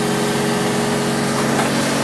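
Steady mechanical drone of a wood gas engine running on a sawmill rig, its exhaust blowing into wood, a continuous even hum at close range with no pauses or speech.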